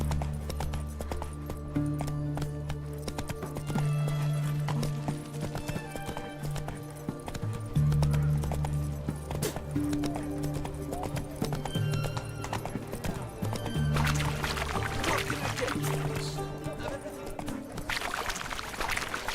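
A horse gallops in The Witcher 3 video game, with steady rhythmic hoofbeat clip-clops and an occasional neigh over a continuous game soundscape.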